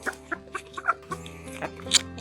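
Backyard homestead chickens cluck in short, repeated bursts while pecking at food, close by and loud, with several birds overlapping.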